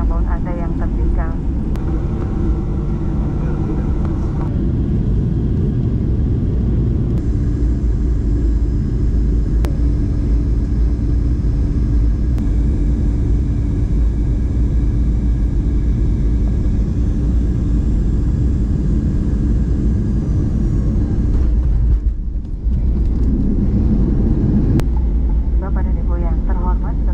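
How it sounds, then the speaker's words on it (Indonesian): A Garuda Indonesia airliner taxis after landing at Kendari, heard from inside the cabin as a loud, continuous engine rumble and roar, with a cabin announcement voice over it. "Silakan tetap duduk sampai pesawat ini telah berhenti dengan sempurna"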